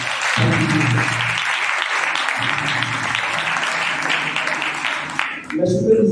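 A church congregation claps loudly and steadily, the dense applause running throughout with a low voice speaking over it at intervals and a short break near the end.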